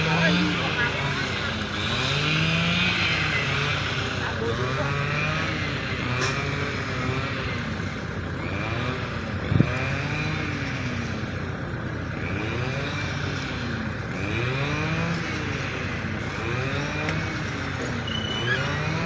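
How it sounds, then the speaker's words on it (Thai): A farm tractor drags something up out of churned mud, its engine a steady low drone running beneath near-constant conversation. "รถไถก็ลากขึ้นมาแล้วนะครับ"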